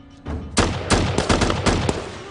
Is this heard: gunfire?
yes